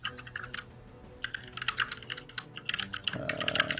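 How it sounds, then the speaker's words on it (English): Loud computer keyboard typing clatters in fast, uneven bursts of clicky keystrokes, close by and heard alone. "I can hear clickety-clackety motherfuckers typing."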